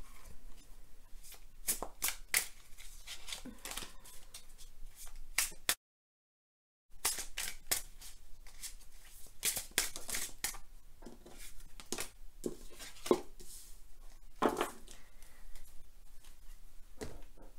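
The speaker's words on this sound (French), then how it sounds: "On va demander des cartes au tarot de Nicoletta Ceccoli pour compléter." Tarot cards from the Nicoletta Ceccoli deck are shuffled by hand close up, a series of soft papery riffles and slaps with a short silent gap partway through.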